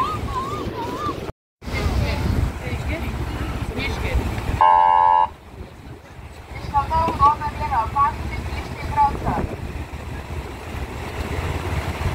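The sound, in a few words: car arriving and leaving near the seaside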